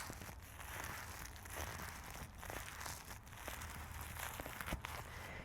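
Plasticky lining of Everlast Powerlock OG boxing gloves crinkling softly close to the mic, a faint, steady rustle with small crackles, like a thin plastic bag being handled.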